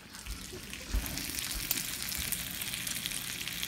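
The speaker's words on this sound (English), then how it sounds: "just gonna want to keep that bacon sizzling" Steady crackling sizzle of bacon frying in a hot pan, continuous broadband hiss with small pops throughout.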